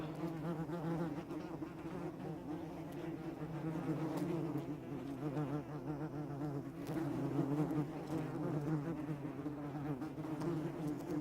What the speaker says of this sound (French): tous ces vrombissements, ces bruits de vol que l'on entend, ne sont que des guêpes